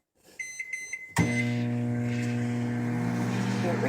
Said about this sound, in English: Here's my microwave.